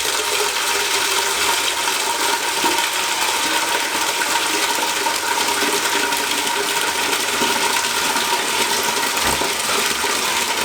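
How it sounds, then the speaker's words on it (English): Steady broadband rush of water poured from a bucket into a $100 Della portable washing machine, filling continuously and loudly for the whole stretch with no talk. "I find the easiest way to fill this machine is just with a bucket."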